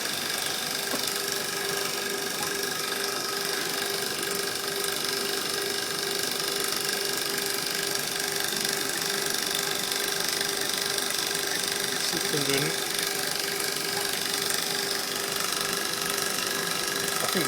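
Vacuum pump pulling down a cold room refrigeration system with a Danfoss Maneurop compressor, a steady mechanical drone and hum holding constant the whole time, close and moderately loud, with one brief faint knock partway through.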